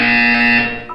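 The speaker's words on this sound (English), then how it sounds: "When you hear the buzzer, look down at the floor." A loud, steady electronic buzzer tone from the Portal 2 video game sounds continuously for the full second, fading slightly near the end.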